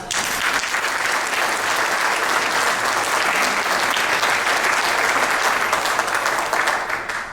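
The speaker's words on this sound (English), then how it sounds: "So let's give these guys a round of applause." A hall audience at a West Chester trustees candidate debate breaks into loud, continuous applause for the candidates, a dense wash of clapping that holds steady from start to finish.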